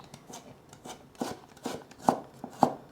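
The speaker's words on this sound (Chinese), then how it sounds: "所以切细细的丝，等下切出来的红萝卜碎" Knife chopping carrot finely on a cutting board, producing a run of close, crisp taps that speed up and strike harder toward the end, with no talking.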